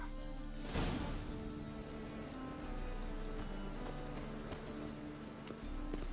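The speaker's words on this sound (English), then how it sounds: "Rain again." Steady rain falls in the video game The Witcher 3, a dense, even patter of drops on surfaces that runs unbroken, with a brief louder splash early on and no talk.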